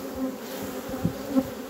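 Honey bees buzz steadily as they are shaken from a frame into a small swarm, a close continuous hum with a few louder swells and no voices.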